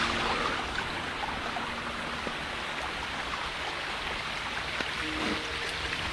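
A waterfall swollen by a night of very heavy rain on a jungle hiking trail, heard as a steady, dense rush of falling water that stays even and unbroken throughout, with no voices.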